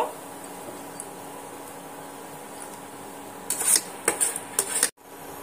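Fried cashews and raisins being scooped from oil onto a plate: quiet background, then a short cluster of sharp metal spoon and plate clinks near the end, close and fairly loud, with no speech.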